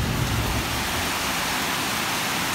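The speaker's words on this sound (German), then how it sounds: "So, jetzt regnet es gerade richtig," Heavy tropical rain pours down near a beach hut by the sea, a dense, loud, steady hiss with no breaks and no voices.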